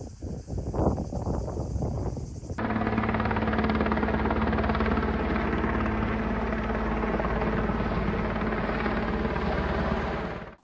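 A firefighting helicopter works over a forest fire near Lezhë. Its rotor and engine roar starts abruptly after a brief softer opening, then holds loud, close and steady to the end with a constant whine, and no talk.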